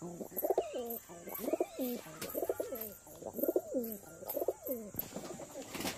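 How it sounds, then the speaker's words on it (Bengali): A pair of pigeons coo softly nearby in a steady run of about six repeated rolling phrases, with faint background hiss and no talking. "বন্ধুরা দেখো পায়রা দুটো দেখো।"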